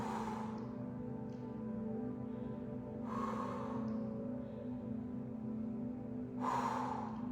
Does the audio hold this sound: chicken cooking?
no